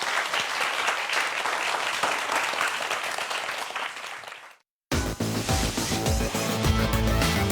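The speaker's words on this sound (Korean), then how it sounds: "오늘의 강연자 두 분 어떤 분들인지 박수로 환영해 주십시오" A studio audience claps loudly and steadily to welcome two guest lecturers at a televised science talk, the applause dying away before a sudden switch to music.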